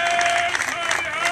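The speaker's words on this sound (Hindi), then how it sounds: "जोरदार तालियां।" Crowd applause at a One Rank One Pension protest gathering at Jantar Mantar, a dense steady wash of clapping that carries loud and close throughout, with voices mixed into the noise.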